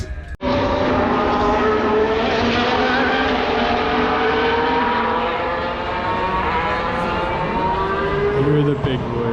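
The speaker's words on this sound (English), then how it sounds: "Here are the big boys, Formula 1 practice session 2. Definitely moving a lot quicker." Formula 1 cars at Imola during a practice session give a loud, sustained high-pitched engine whine, with a voice talking over it.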